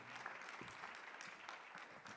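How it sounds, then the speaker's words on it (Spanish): Audience at a programmatic advertising forum claps for a speaker being introduced, a brief, faint, even patter of applause heard from a distance. "Un aplauso."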